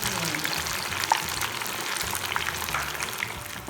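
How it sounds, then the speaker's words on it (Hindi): Pieces of taro root (arbi) deep fry in hot oil, giving a steady, close, bubbling sizzle that stays even throughout with no talking. "ये अरबी को डीप फ्राई कर ले रहे हैं।"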